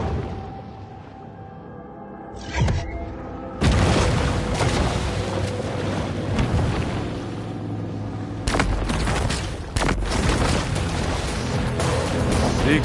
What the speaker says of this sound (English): The explosion has drawn unwanted attention.